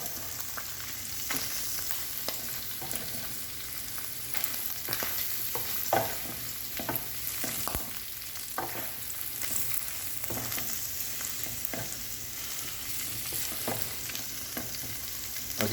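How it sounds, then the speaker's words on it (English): Flour stirred into hot sausage grease to make a roux for creamed chipped beef, a continuous close sizzle broken by repeated scraping and clicking strokes of the spoon against the pan. "you add that up, and then you just stir it in there"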